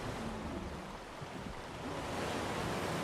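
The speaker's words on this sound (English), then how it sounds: "If you're building by a waterfall, that's nice and relaxing at first." Steady roaring rush of a waterfall in the Redwoods area of Ark Survival Ascended on the Valguero map, a continuous broad wash of water noise that swells slightly toward the end.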